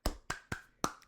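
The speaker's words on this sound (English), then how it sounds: "I'll clap it up." A single person claps four times in a steady, even beat, each clap crisp and close with brief silence between.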